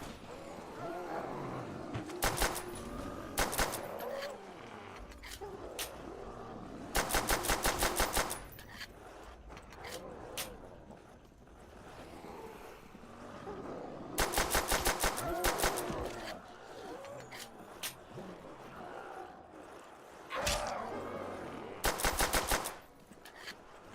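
Bursts of automatic gunfire aimed at zombies in Call of Duty: World at War's Nacht Der Untoten, several loud rapid volleys separated by quieter stretches of game noise and scattered single shots.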